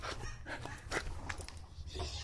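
A dog pants and whimpers in quick breathy bursts while biting and gripping a person's leg, close and fairly loud, with brief muffled vocal sounds in the background.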